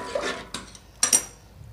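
A spoon stirring a basundi milk mixture in a pan over a low flame, with a few soft scrapes and two brighter clinks of metal against the pan, close by and brief.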